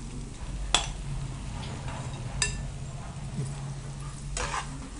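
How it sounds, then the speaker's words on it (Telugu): Fried okra tipped into a pan of spiced onion and stirred through, a soft continuous sizzle with scraping of the spoon and a few sharp clinks against the pan. "ఇందులో ఈ ఫ్రై చేసిన బెండకాయలని యాడ్ చేసుకొని కలిపేసుకోవాలి"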